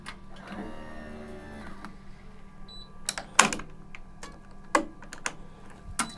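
An Ektelon racquetball stringing machine tensions and clamps a string on a Power Ring 8 racquet: soft mechanical whirring, then a few sharp, close clicks and snaps as the clamp locks.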